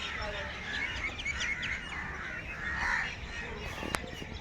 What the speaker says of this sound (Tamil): எவ்வளோ காகங்கள் பாருங்களேன்